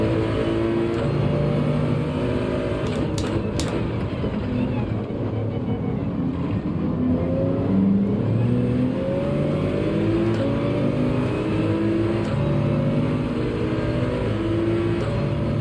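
Race car engine in the video game Gran Turismo 7, a Hellcat Challenger Gr.3 in a daily race, revving and shifting up and down in repeated rising pitches under steady tire and road noise.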